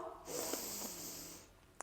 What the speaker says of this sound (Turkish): Derin 3 tane karın nefesi alıyoruz.